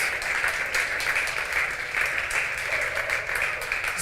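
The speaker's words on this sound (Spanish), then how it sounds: "aplauda al Señor porque somos hijos de Dios" A church congregation claps during a Sunday sermon, dense and even applause from many people sustained for several seconds without a break.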